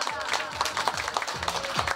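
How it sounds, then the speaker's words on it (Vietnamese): Applause at a Vietnamese family thanksgiving ceremony, a steady patter of many hands clapping close by, with faint voices underneath. "Xin quý vị một tràng pháo tay để cùng chào đón đại gia đình của chúng tôi ạ."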